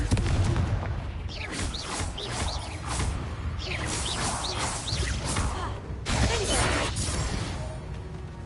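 Confringo blasting spell going off in Hogwarts Legacy, a burst of whooshing fire and crashing booms with sharp shattering hits over about eight seconds, loud and dense, with a swelling blast near the end.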